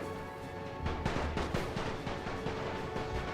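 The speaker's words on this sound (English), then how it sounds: "Machine guns now focusing over here." Rapid rattling machine-gun bursts in The Great War, a World War I strategy game set on the Serbian front with Italian units, fire as a dense volley of sharp repeating cracks at moderate distance, without talk.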